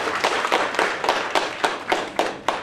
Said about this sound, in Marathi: टाळ्या वाजवा त्यांच्यासाठी।